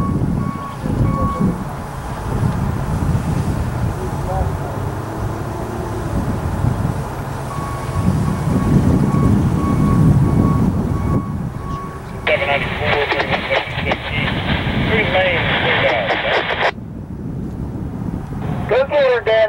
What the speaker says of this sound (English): This is how a high rail vehicle sets up on the track before proceeding down the line.